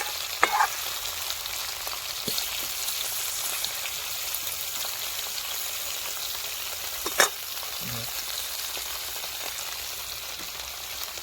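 Fish fries in a pan outdoors beside a pond, a dense, steady crackling sizzle throughout with a couple of brief clinks and knocks from the cookware.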